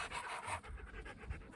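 Queenie, a cheerful pet dog, pants softly and close by indoors, a quick rhythmic run of breathy huffs at low volume.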